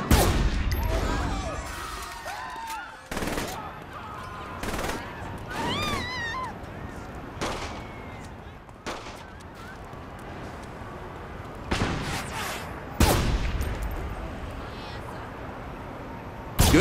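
Rifle shots ring out in bursts during a Saints Row firefight against snipers, sharp cracks spaced irregularly across the scene with game effects and voices in between.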